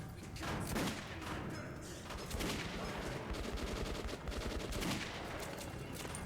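Rapid gunfire in the video game Metro 2033 Redux, dense bursts of loud close shots with heavy thumping impacts, firing in clustered volleys that continue almost without pause.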